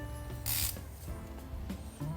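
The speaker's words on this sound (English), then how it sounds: "let me get the torque wrench out. Definitely have it on 50 pounds." A torque wrench set to 50 pounds ratchets on a Ferrari 599's suspension, giving several close, loud mechanical clicks with heavier bursts of clatter mixed in and no talking.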